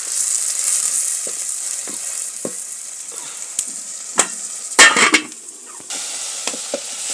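Tomatoes and vegetables go into a pot and fry, a steady hiss broken by scattered utensil clicks and a burst of louder sizzling and stirring midway before it settles back to a quieter simmer, no speech.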